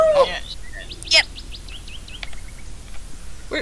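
Video game birds chirping and tweeting in quick, scattered calls over a low constant background, with short bursts of other game sounds between them.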